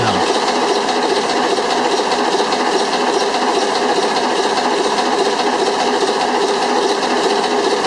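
The air-start, direct-reverse engine of a 22 m Alaska Packers tugboat runs at full cruise speed, giving a loud, steady mechanical drone with fast rhythmic clatter, heard close up in the engine room.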